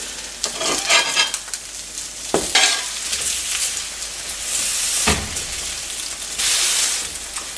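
Pieces of food sizzle and fry on a square griddle over a round burner, a steady loud hiss broken by bursts of crackling as they are stirred and moved around, with no talking.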